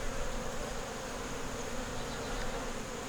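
Honey bees at a hive frame hold a steady, faint, dense buzz with no breaks, heard close up and with no voices.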